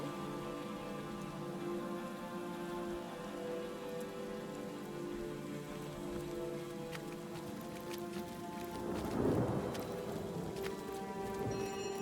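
Steady rain with a distant rumble of thunder during a fantasy video game storm, a continuous wash of falling drops that swells briefly near the end, with no talk.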